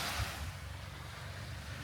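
Surf rolling onto a beach at night under a full moon, a continuous low rumble of waves with wind buffeting the microphone, no voices.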